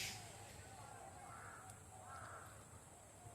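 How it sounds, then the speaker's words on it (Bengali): A crow caws in a village, two or three hoarse calls at moderate distance over a steady background hum, with no talking. "শুনছেন তো, যে পাখির ডাক,"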